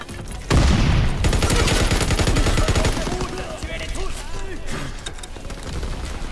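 Rapid, loud bursts of submachine gun fire in a WWII shooter, a dense stream of shots that continues for several seconds, with chatter audible alongside.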